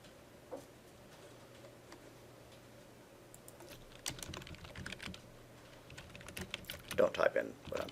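Scattered keystrokes on a computer keyboard during a programming class, soft and sparse at first, then quicker clicking bursts toward the end against a quiet room hum.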